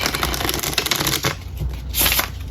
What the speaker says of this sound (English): I gotta shuffle this deck